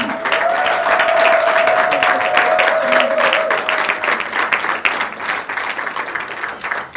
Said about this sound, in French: Est-ce que je peux encore entendre vos applaudissements?